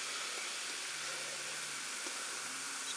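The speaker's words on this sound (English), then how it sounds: "you open up this can of Coca Cola Spiced and you pour it into this glass." Coca Cola Spiced pours from a can into a glass with a steady fizzing, hissing rush of carbonation, constant and fairly quiet, with no voices.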